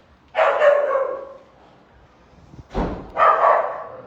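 Dogs at an animal shelter bark and yip, two close, loud bursts of barking separated by a short pause, with no talk.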